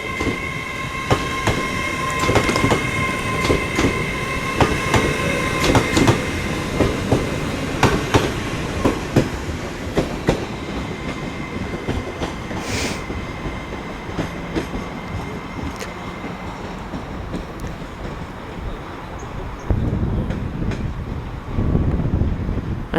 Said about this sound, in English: Transport for Wales train leaving.